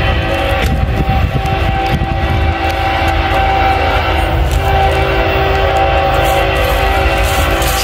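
A freight train, Canadian National or BNSF, passes close by with a loud, continuous rumbling roar and steady rolling noise that holds at full strength throughout.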